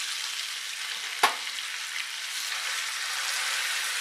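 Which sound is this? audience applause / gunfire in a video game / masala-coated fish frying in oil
masala-coated fish frying in oil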